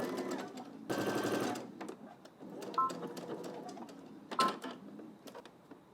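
Sewing machine stitching a skirt seam in short bursts, a loud rapid whirring run near the start followed by quieter intermittent stitching and clicks.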